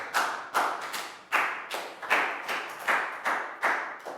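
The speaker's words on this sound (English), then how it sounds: "Big round of applause for Preo." A small group of pupils claps for a classmate in a primary classroom, around a dozen distinct sharp bursts in an uneven rhythm, close and fairly quiet, with no talking.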